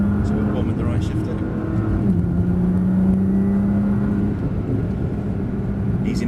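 A Nissan GTR powers along a track at Dunsfold, its engine droning loud and close inside the car with a rising whine as it accelerates, while a voice talks over it.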